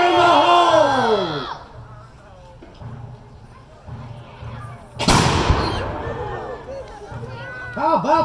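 A flintlock musket fires once with a sharp loud crack that fades into a reverberating boom outdoors, following shouting and excited crowd voices, with people talking and cheering around it.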